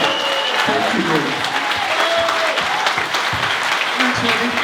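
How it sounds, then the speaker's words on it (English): Audience applause at the close of a Q&A session at a weekender event, a steady dense clapping wash that fills the whole stretch at moderate loudness, with voices murmuring underneath. "ladies and gentlemen, please give a massive round of applause to Norman Jay MBE"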